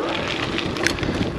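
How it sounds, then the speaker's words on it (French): Steady headwind buffeting the microphone on a gravel bike ride uphill, a constant rough rushing noise with no talking over it. "Et vent de face sur cette montée"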